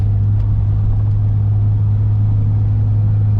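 Steady engine rumble of a Jeep Cherokee picking up speed on the road after cruise control resumes, a constant low drone heard alone throughout.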